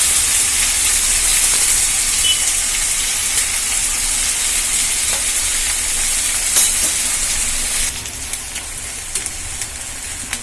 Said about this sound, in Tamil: வெங்காயம் இன்னும் கொஞ்சம் நல்லா வதங்கட்டும்ப்பா.